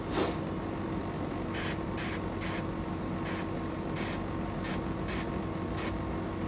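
Aerosol spray bursts coat a glittery craft piece, about nine short hisses in uneven rhythm, close and clear over a steady low room hum.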